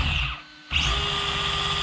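The brushless electric motor of a Tamiya BBX RC car whines at a high, steady pitch, cuts out briefly, then spins back up to a loud, constant whir with no voices.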